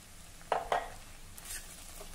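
A vegetable dish with freshly roasted crushed peanuts and coriander gets stirred in a pan: two quick spoon knocks against the metal, then soft faint scraping in a quiet kitchen.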